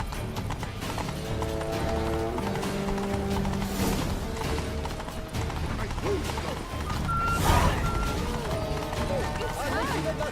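Steady clip-clop of horse hooves in The Witcher 3, a riding rhythm under game music and ambient noise, with a brief louder swell near the end.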